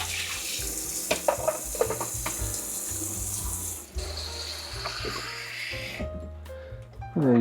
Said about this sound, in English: you want to fill them up just a little bit so that the water rises above the top of this tray here